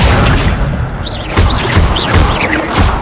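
Accio summoning spell firing in Hogwarts Legacy on PS5, a series of booming, whooshing magical bursts with rising shimmering tones, loud and close amid continuous game sound.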